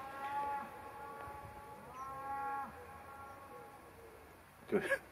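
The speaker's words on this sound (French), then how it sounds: "vous avez entendu l'écho de la vache et l'écho qui venait de là" A cow moos in an outdoor sound installation in a forest, its drawn-out calls echoing back from a distance, moderately faint against a quiet background, followed by a brief louder burst near the end.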